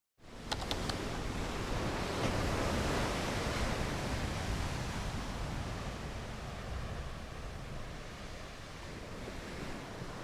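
Ocean waves along the coast at North Beach, New Hampshire, a broad continuous roar of surf with some wind noise, steady and fairly full throughout.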